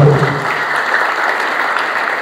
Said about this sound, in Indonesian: Beri tepuk tangan yang terbaik.